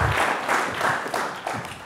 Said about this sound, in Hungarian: Nagy tapsot kérünk szépen!